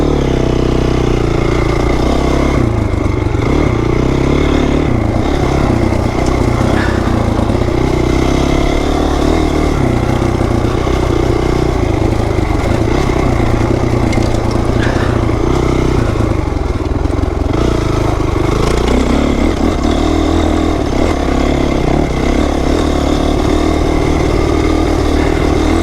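A Honda CRF450R dirt bike engine runs loud and steady on a wooded trail, a constant throaty drone with slight shifts in revs and no talking over it.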